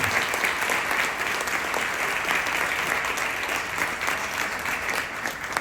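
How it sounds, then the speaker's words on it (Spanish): A lecture audience at an astronomy talk applauds a speaker, a steady, fairly loud patter of many hands clapping that holds throughout with no break. "un aplauso para él"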